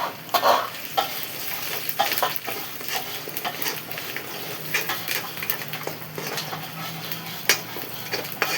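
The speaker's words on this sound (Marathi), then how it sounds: "आधी कढीपत्ता टाकू." Curry leaves crackling in hot oil in a pan while being stirred, for a stuffed brinjal dish: continuous close sizzling with scattered sharp pops and the scrape and clink of a spoon against the pan.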